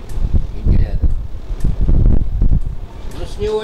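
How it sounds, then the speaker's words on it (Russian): A powerful 100-watt electric fan with iron blades runs close by with a rough, gusty whoosh of moving air, while someone talks over it. "с железными лопастями на 100 ватт мощный вентилятор"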